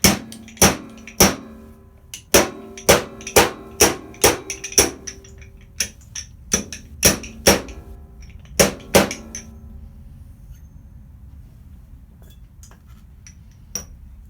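Hammer taps seating the damper rod in a Harley-Davidson Sportster 1200 front fork slider: a run of sharp, ringing metallic knocks at an irregular beat, close and fairly loud, fading to a few scattered light taps, no talk.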